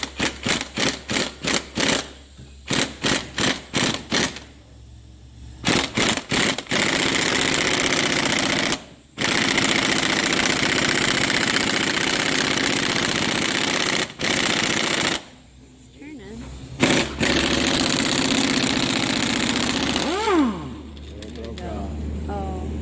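An impact wrench fitted with a six-point socket hammers at a stuck bolt in short, rapid rattling bursts, then in longer sustained runs with pauses between, loud and close.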